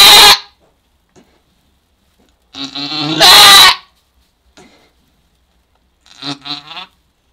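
Goat giving birth to newborn kids, bleating loudly in three separate bursts: a short cry at the start, a long strained bleat mid-clip and a quieter wavering bleat near the end, with silence between.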